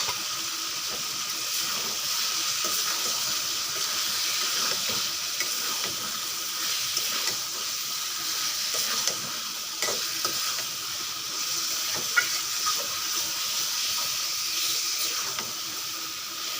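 Chicken pieces with spices sauté in a pan, producing a steady sizzling hiss with scattered scraping and tapping from stirring, one sharper knock, no speech.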